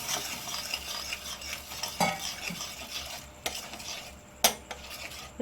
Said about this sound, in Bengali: মশলাটাকে ভালো করে একটুখানি কষে নিচ্ছি এইবার দিয়ে দেব গরম জল